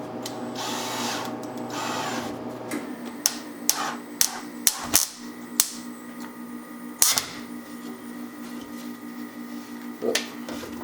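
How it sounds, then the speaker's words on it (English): Small screws being driven into an antler mount on a plaque: brief drill whirs followed by a scattered series of sharp clicks and taps, close by, with quiet pauses between. "we'll go ahead and we'll screw these down."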